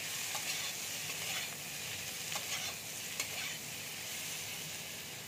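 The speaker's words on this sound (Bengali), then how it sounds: "এবার আমি পেঁপেগুলো দিয়ে দিচ্ছি। পেঁপেতে নুন আর হলুদ আমি দিয়ে দিয়েছি, দিয়ে ভালো করে ভেজে নামিয়ে নেব।" Papaya pieces seasoned with salt and turmeric fry in hot oil in a pan, giving a steady, dense sizzle throughout with a few faint clicks of stirring, no talk.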